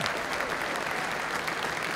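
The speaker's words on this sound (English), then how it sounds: "The crowd and now the players on the field as well applauding, even the Dagenham players" Crowd and players at a Dagenham & Redbridge football match applaud steadily, a dense, even wash of clapping heard from a distance, with no talking over it.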